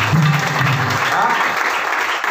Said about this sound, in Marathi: त्या म्हाताऱ्यांसाठी एकदा टाळ्या वाजवा